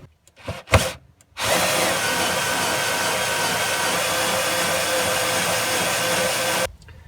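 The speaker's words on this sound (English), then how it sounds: "I'm going to drill that second hole there." After a few brief knocks, a power drill bores steadily into wood for about five seconds during a diesel heater install, a loud continuous whine that stops abruptly.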